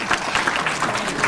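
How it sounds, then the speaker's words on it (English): A small audience at a coffee-bar legislative gathering in Newton Falls gives a brief round of applause for a councilman, quick scattered claps heard close and moderately loud. "give a round of applause to our own Councilman Terry Alberini."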